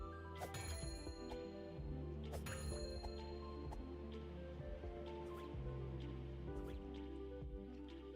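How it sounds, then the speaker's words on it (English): Bells in the Tunic video game ring out as struck, bright metallic tones with lingering sustained overtones layered over one another against low game ambience. "first hit all the bells to reset my state"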